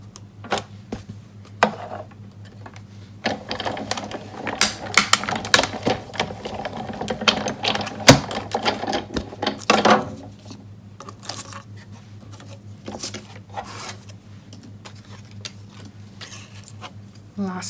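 Paper run through a die-cutting machine while making a card: a sequence of uneven clicking, cranking and crunching mechanical sounds, busy in the middle and sparser toward the end, with a person talking intermittently over it.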